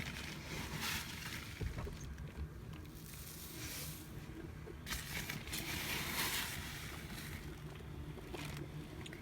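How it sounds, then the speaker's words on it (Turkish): Perlite poured into a pot while mixing potting soil for violets and succulents, a steady granular hiss and crunch that runs on continuously, close and fairly loud. "Perlit döküyorum."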